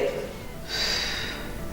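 A single sharp breath is drawn in through the nose during a home workout with back and spine exercises, a brief close airy inhale with no one speaking.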